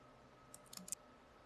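A Linux command typed on a computer keyboard, a quick cluster of about five faint light key clicks over a quiet background hum.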